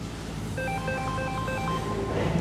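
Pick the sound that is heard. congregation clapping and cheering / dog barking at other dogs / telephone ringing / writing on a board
telephone ringing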